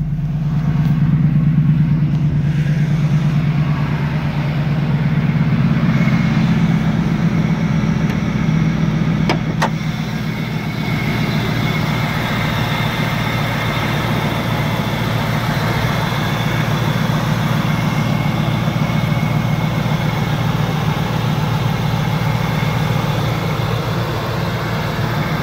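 A 2005 Ford F-150 Lightning pickup with 74,000 miles idles close by, its engine holding a steady low rumble with a slight rev near the start, smooth and continuous.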